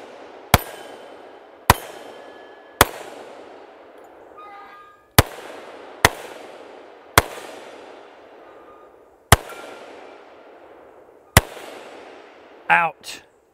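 Eight sharp gunshots from an FK BRNO 7.5 Field Pistol crack out at a steady pace outdoors, each loud report trailing off in a short echo, with a brief metallic clatter near the end.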